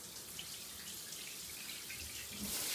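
Water runs steadily from a tap during a cat's bath, a soft, continuous splashing hiss that swells slightly louder toward the end, with no voices heard.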